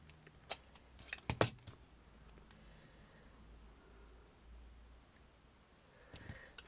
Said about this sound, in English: first of all, I'm just going to cut it there.